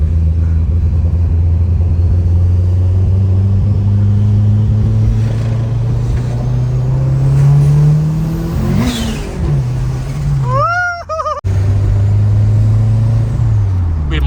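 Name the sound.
turbocharged car engine whistling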